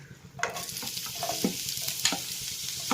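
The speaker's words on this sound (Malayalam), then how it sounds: "എണ്ണ ചൂടാകുന്ന ഉടനെ സവോളയിലേക്ക് ഇടാം" Onions frying in hot oil in a home kitchen pan, a steady close sizzle with occasional sharper scrapes and pops of stirring.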